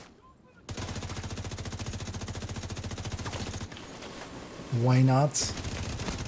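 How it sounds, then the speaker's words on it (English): Rapid blind-fired grenade launcher shots in a first-person shooter game, a dense rhythmic burst of loud reports over a few seconds, then a brief tonal chirp and more firing, with a short spoken phrase. "Blind firing a grenade launcher."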